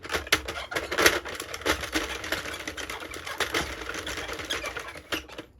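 A Sentro knitting machine is hand-cranked to knit rows of waste yarn, giving a steady run of close mechanical clicks and clacks in a quick, even rhythm with no talking.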